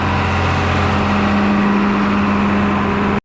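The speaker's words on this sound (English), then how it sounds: "tractor over here with the generator" Tractor, generator and mini loader running together at a work site, giving a steady, loud engine drone with a strong low hum, continuous for about three seconds before cutting off abruptly.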